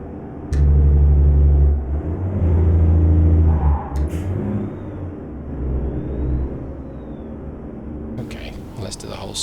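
A truck engine from a video game's Steele Productions engine pack growls low and heavy, revving and holding steady around downshifts, then settling to a lower rumble, with someone talking throughout.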